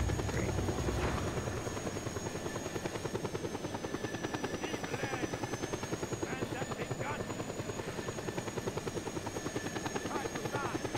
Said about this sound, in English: I want to land the helicopter, not crash.